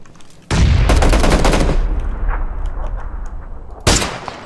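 Loud bursts of gunfire in a tactical shooter game, with a sustained rapid volley that fades into echoing shots and a final sharp burst near the end, heard alone without talk.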